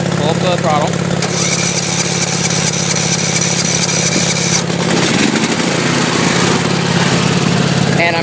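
A Craftsman weedeater lawnmower engine runs loud and close, a steady droning rumble that shifts in pitch partway through, with voices in the background.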